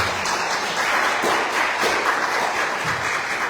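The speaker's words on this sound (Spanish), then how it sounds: "Dale un aplauso fuerte al Señor." Church congregation applauding during a Spanish-language service, a loud, continuous patter of many hands clapping together, close and full throughout with small swells in intensity.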